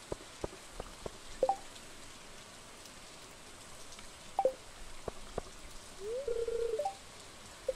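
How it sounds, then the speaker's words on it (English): Soft, steady rainfall hisses quietly in the farming game Stardew Valley, with sharp clicks and short electronic blips from the game interface scattered through it. "it does seem to be raining quite heavily"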